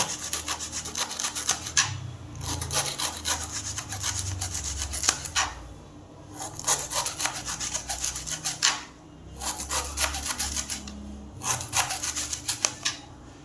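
A bamboo shoot is sliced crosswise into small pieces, giving rapid, rhythmic scraping cuts in bursts separated by brief pauses, close and fairly loud.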